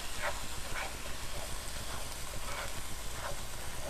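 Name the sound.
ground turkey sizzling in a pan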